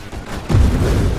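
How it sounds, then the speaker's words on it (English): Deep, booming burst of splinter explosions in the space shooter Nova Drift, a low rumble swelling suddenly midway and rolling on loudly to the end. "The resultant just explosion from all of the splinters is great"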